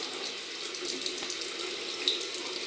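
Cold tap water runs steadily into a sink for a shaving rinse, a continuous close hiss with one small splash near the end.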